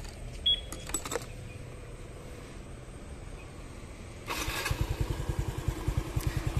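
A Honda Wave RSX motorcycle engine with about 107,000 km on it ticks over quietly at first, then a steady close idle pulse starts up partway through, low and even.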